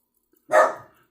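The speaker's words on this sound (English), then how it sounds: "That's my dog protecting me against any noise that she hears." A single sharp bark from a dog indoors, close and loud, one quick burst that fades out within half a second.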